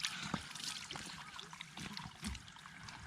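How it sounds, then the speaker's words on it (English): Clean spring water trickles out of the ground beside a mountain trail near Seoul, a faint, soft burble with small splashes over quiet outdoor background. "Finally seeing some water. It's literally flowing out of the ground."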